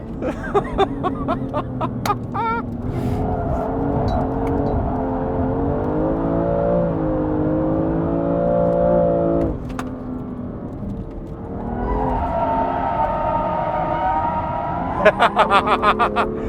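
A drifting car at a Sydney Motorsport Park drift night whines and revs at a steady pitch with wheelspin and tire noise, fading and surging, with brief chatter and laughter at the start and end.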